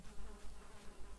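Bees in Valheim buzz close by in a faint, wavering hum that rises and falls in short pulses, with no voices.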